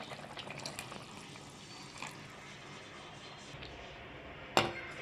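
Strained tamarind water is poured into a simmering fish curry for an Amma-style kulambu, making a soft continuous trickle and liquid patter, then a brief sharp splash near the end.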